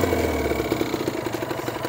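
Kawasaki Ninja RR motorcycle engine running close by with the exhaust covered, a steady, smooth idle with a light rhythmic clatter throughout and no talking.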